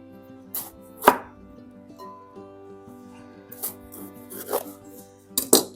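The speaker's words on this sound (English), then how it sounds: "I'm gonna cut the tops off the peppers." A knife cuts the tops off bell peppers on a cutting board, with a few sharp chops spaced irregularly, a strong one early and a quick pair near the end, over a faint low hum.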